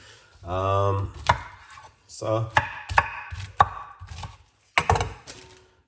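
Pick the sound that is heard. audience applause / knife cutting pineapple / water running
knife cutting pineapple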